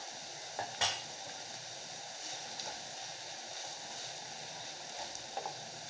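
Grated coconut stirred into cooked green beans for poriyal in a pan, with a faint, steady sizzle and soft scraping, plus a couple of brief clinks near the start.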